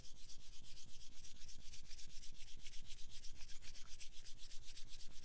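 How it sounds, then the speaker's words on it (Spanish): Denim cloth is rubbed rapidly back and forth along a leather edge to burnish it, producing a close, rhythmic scratchy friction with steady strokes and no voices. "Solo es necesario frotar el borde del cuero."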